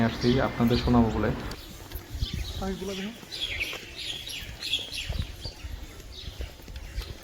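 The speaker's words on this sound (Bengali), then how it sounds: "একটু সাইলেন্ট হয়ে পাখির কিচিরমিচির শব্দগুলো শুনুন" Birds chirp and twitter in quick, high bursts at Baliati Zamindar Bari in Manikganj, faint and somewhat distant, after someone speaks briefly at the start.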